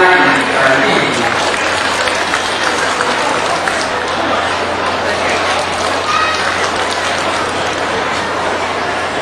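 Audience applause at a temple hall inauguration ceremony: dense, steady clapping from a large crowd that fills the whole stretch at an even, loud level.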